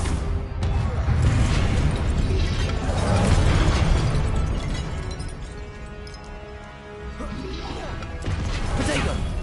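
Confringo fire spell blasts in Hogwarts Legacy gameplay, dense loud bursts and crashing impacts layered over game music and effects, with a voice shouting spell names throughout.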